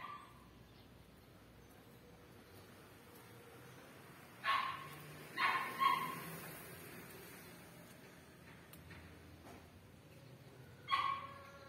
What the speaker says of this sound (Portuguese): O cachorrinho latindo por aí.